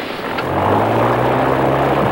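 An airplane engine drones steadily in flight, a loud, even, low hum with a faint propeller-like tone that swells slightly and holds throughout.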